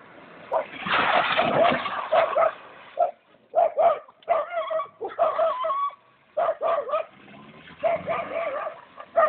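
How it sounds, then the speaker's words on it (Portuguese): Several dogs bark and yip in quick irregular bursts, fairly close and loud, with short gaps between volleys and some whining tones. "Ó, os cachorros, mano."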